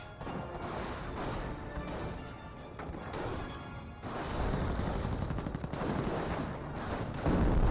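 Incendiary mortar shells landing in a Company of Heroes battle, a dense barrage of sharp explosive cracks and crashing impacts that swells louder partway through, with no voices.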